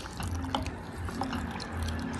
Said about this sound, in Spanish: ya le echamos agua